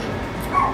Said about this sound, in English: Sorry if you hear like a dog barking,